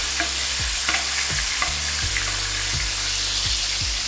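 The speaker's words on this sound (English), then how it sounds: "The sugars in the butter caramelize on top of the steak." A steak sears in butter in a hot pan, a constant loud sizzle broken by repeated scraping and stirring strokes close by.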